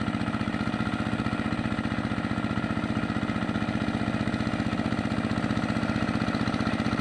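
A farm machine engine runs steadily close by in a wet field, a dense rapid chugging throb that holds loud and unbroken throughout with no talk, though its stated uneven running is not clearly evident.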